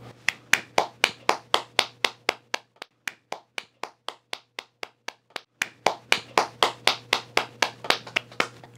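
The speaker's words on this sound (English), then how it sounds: "Everybody, let's give the Bourgeois family a round of applause" A small group claps for a family: sharp, distinct hand claps in a fairly steady rhythm, close and loud, with a brief slower patch midway before picking back up.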